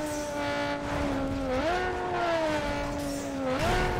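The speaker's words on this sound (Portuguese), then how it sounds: "Parece um carro de corrida, cara, esse ronco." A loud race car engine roars steadily in Need for Speed Underground 2 with a sound mod, its pitch climbing and dropping as the revs change, close and continuous with no talk over it.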